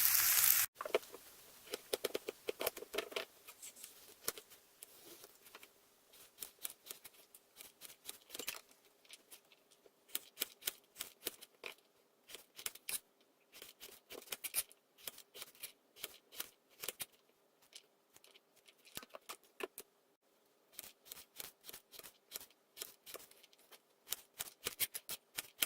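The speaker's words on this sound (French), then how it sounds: "je vais couper mes carottes" A knife cuts carrots on a board in short, crisp chopping bursts, quiet and close, in quick irregular runs with small pauses between them.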